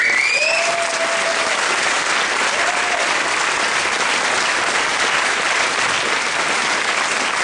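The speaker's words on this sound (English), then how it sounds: "Can we have a round of applause for all of them?" Loud, dense applause fills the hall at a UFO incident anniversary conference, continuous clapping for over seven seconds with a couple of whistles near the start.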